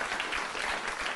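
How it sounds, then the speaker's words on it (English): A short, fairly quiet burst of studio audience applause on a late-night political comedy show, a dense wash of clapping with no talk over it. "Applaud."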